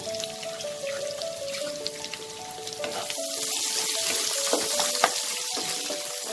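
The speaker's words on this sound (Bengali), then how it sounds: "রসুনটা ভাজা হয়ে গেছে, পেঁয়াজ কুচিটাও দিয়ে দেবো।" Chopped onion fries with garlic in a pan for a water spinach dish, making a continuous bright sizzle with scattered pops and crackles over a faint tonal background hum.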